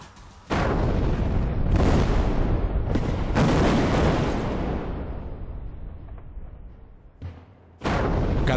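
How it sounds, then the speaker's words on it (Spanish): Blasting charges go off for the foundations of bridge pier 9, several deep, heavy booms in sequence, each one rumbling and fading slowly, loud and distant, with no voices. "Las voladuras de la pila 9 son monitoreadas por un grupo de sismólogos para medir las vibraciones"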